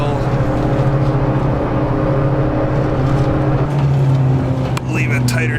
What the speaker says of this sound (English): the roar of this engine really makes it sound like an airplane motor